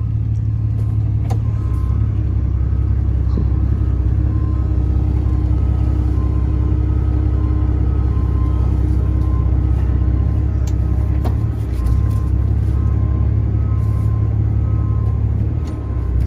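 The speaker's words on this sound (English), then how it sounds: "I'm gonna back up into a parking spot and show you what I mean." A Ram 2500 pickup truck reverses into a parking spot, its engine idling with a low, steady rumble throughout, close and constant with only slight swells and no talking.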